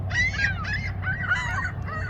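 Seagulls calling from shore ice on open water as the ice starts to break up, a run of nasal, honking cries one after another over low steady background rumble, fairly close and loud.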